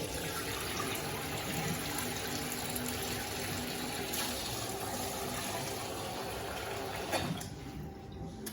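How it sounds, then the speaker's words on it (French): Hot water pours over rice in a bowl to wash it, a steady close splashing and trickling stream that runs continuously before easing off near the end. "Il faut faire comme ça 2-3 fois de l'eau chaude sur le riz"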